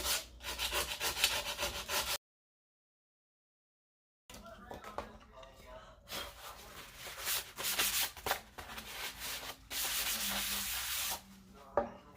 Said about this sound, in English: just give it a light sanding in the direction of the wood grain